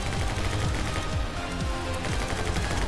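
Dense, rapid gunfire from the My Friend Pedro video game, repeated shots in quick succession running throughout at a constant loud level, layered over game music with no talking.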